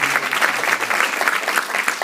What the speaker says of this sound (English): Let's get a round of applause for Farah and for Ramzi.